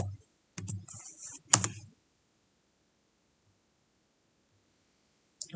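Typing a search on a computer keyboard: a short burst of close, soft key clicks, a single sharper tap, then silence until a few faint clicks at the end.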